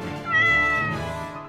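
A cartoon kitten stuck up a tree lets out one clear, loud, drawn-out meow that rises and then trails off, with no talk over it.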